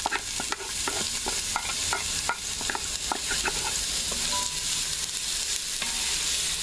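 Minced onion, one large onion's worth, sizzles steadily in an Instant Pot while a utensil scrapes and stirs in short clacks, the frying hiss loud and close throughout with no talking.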